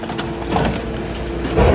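Scrap car crushed by heavy machinery in a scrap yard: a steady, close grinding roar of yielding tin bodywork, with louder crunching surges near the middle and again at the end.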